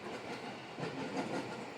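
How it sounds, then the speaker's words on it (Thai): A train passes close by, its steady rumble and clickety-clack of rail cars filling the short stretch at a fairly even level with no talk. "สีได้ยินเสียงเพิ่นเนี่ย รถไฟข้ามไปเนาะ"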